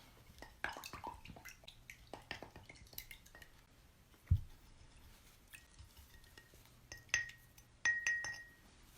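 A paintbrush swished and rinsed in a glass of water during crafting, with scattered light clinks of the bristles and handle against the glass and small drips, close and fairly quiet.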